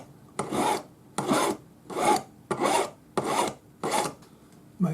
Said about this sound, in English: I'm just going to take my Swiss No. 2 cut flat hand file